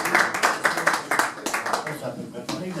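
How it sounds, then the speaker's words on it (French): An audience claps for boxers at a weigh-in, a run of sharp, irregular hand claps from nearby with talking underneath. "On peut les applaudir."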